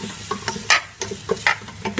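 Tomatoes stirred into browned onions with cardamom, cloves, ginger and cinnamon in a pan for kabsa biryani, a close sizzle broken by rhythmic scraping stirs of a spoon, no talking.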